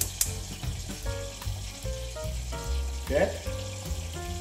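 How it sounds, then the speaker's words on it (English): Fish sizzles steadily in hot oil in a home kitchen as it fries until golden brown, a dense crackling hiss running throughout with occasional sharper pops, while a voice speaks briefly over it. "we just wait for a few minutes until the fish is turned to golden brown"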